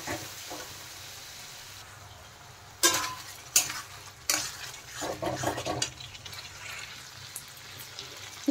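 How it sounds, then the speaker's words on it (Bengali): Spice paste for a Bengali-style egg curry stir-fried in a pan until the oil separates, with a low steady sizzle broken by several sharp scraping stirs near the middle and a busier stretch of stirring toward the end. "ভালো করে কিন্তু কষিয়ে নিতে হবে এখন, যতক্ষণ না তেল রিলিজ করে মশলা থেকে ততক্ষণ কিন্তু কষাতে হবে।"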